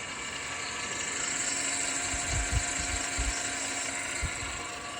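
Meuser M35R radial arm drill with its spindle running at 1600 rpm, a steady, fairly quiet mechanical whine and hum with a few low thumps, no voices.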